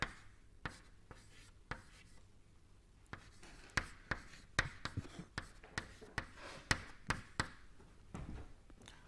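Chalk or a marker taps and scratches on a board during a lecture: a quiet, irregular series of sharp strokes and ticks, closer together in the second half.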